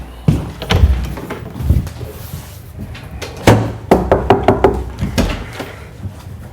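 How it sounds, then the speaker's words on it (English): A hallway door is knocked on, a few loose thumps and bangs followed by a quicker run of firm raps, close and fairly loud with no speech. "knock on this door."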